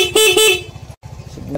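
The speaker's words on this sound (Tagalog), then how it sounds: "Busina." Horn on a Raider 150 motorcycle being tested, giving two short close honks in quick succession, followed by a steady low engine rumble.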